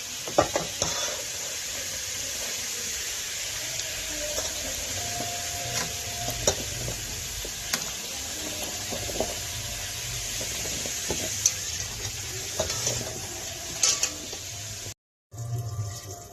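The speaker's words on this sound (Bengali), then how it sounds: "এখানে ফুলকপিটা ভাজছে, ফুলকপিটা ভেজেই দেবো।" Cauliflower frying in oil in a pan for khichuri, a steady close sizzle running throughout with scattered clicks of stirring and utensil taps, no voices.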